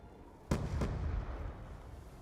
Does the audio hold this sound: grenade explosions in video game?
yes